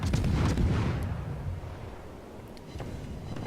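Naval cannon fire in the World of Warships game: a heavy booming blast at the start that rolls off into a long, decaying rumble, with fainter distant thuds following later.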